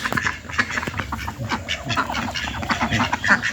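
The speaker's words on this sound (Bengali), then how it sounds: "সন্ধ্যা হইলে তো তাই সব হাঁস আসছে" A flock of domestic ducks quacks continuously as they come home at evening, a dense overlapping chorus of calls close by with no talking.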